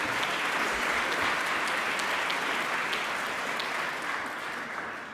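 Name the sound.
audience applause at an entrepreneurship gala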